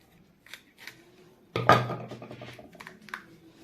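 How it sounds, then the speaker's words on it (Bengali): A knife cuts through capsicums on a board, giving a few light taps and then a sharper, louder crunching slice followed by softer scraping cuts. "এবার আমি ক্যাপসিকামগুলোকে একটু কেটে এইভাবে মাঝখানের অংশটা আগে ধুয়ে নেবেন ক্যাপসিকামগুলো"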